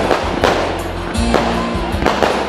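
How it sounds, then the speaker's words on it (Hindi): Fireworks at a school silver jubilee celebration in Mandideep, with repeated sharp bursts and crackling pops, one whistling rise, loud and fairly close against a steady outdoor background. "आतिशबाजी का सुंदर नजारा आपको देखने को मिल रहा है"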